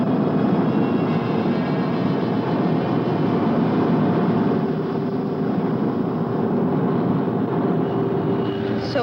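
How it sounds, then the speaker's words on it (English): Spacecraft engines roar in a loud, steady, continuous rumble with a faint whining tone during a vertical landing, alone with no talking. "Stand by for vertical landing."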